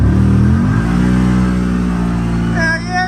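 A heavily loaded CFMOTO utility vehicle engine revs and strains in low gear with a steady, droning roar, while people talk over it near the end.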